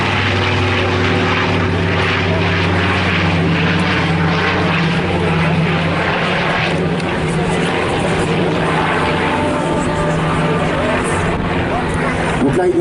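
A Hercules transport plane flies past at an air show at Gap Tallard aerodrome with its landing gear and flaps down, its loud, steady propeller drone filling the whole stretch while people talk over it.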